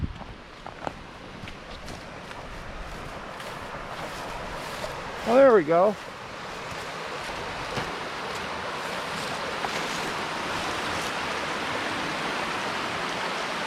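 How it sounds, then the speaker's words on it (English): A mountain creek rushes hard and steady beside a trail, a broad continuous roar heard over a running dual-sport motorcycle ride, with a brief exclamation from a man partway through. "I hear water running really hard through here."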